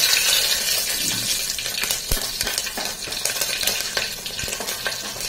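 Green chilies hit hot oil already holding mustard seeds, giving a steady close sizzle and crackle while a spoon scrapes and clinks against the pan in irregular strokes.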